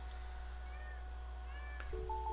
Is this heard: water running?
no